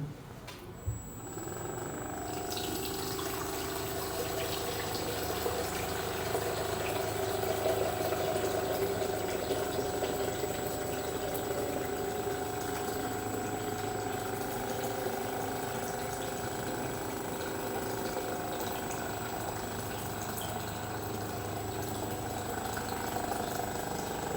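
Homemade water pump built from a water jug runs with a steady motor whine and a sloshing, gurgling flow, starting abruptly after a brief click and holding even and fairly quiet for about twenty seconds.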